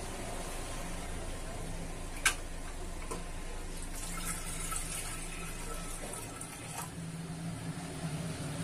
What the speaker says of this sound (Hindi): अब हम इसमें डालेंगे सबसे पहले पानी।